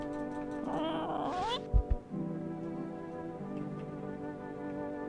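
A cat meows in a video game, a short rising mew near the start followed by quieter game ambience, with a voice speaking over it.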